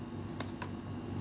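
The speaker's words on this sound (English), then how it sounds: "whatever I'm typing with the help of my keyboard" Light typing on a computer keyboard, a few scattered soft key clicks over a quiet hum, with no talking.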